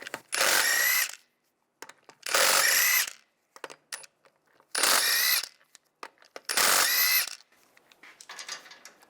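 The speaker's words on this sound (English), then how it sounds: "use a 17mm socket, take the lug nuts off" An impact gun fitted with a 17mm socket removing the lug nuts from the front wheel of a 1999-2005 Volkswagen Jetta 1.9 TDI, firing four loud, close bursts of about a second each with short pauses between, then lighter rattling.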